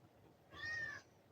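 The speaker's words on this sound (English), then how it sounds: "give you a meow" A single short, clear cat meow rises and falls over about half a second against a quiet room.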